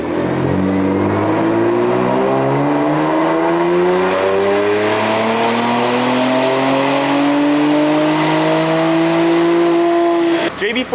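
Tuned Infiniti VR30 engine with JB4 Map 6, electronic wastegates and E30 fuel, on a dyno pull: one loud, close, continuous rev climbing smoothly for about ten seconds before cutting off abruptly.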